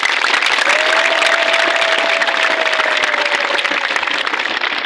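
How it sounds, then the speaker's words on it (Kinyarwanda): Steady, loud applause from a church congregation during a Eucharist service, continuous dense clapping filling the space with a faint held sung or spoken tone running beneath it. "amashyi menshi."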